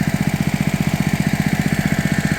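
A homemade outboard motor with an air-cooled engine runs at a steady, rapid chugging beat, loud and close, with a rough mechanical drone and no talking.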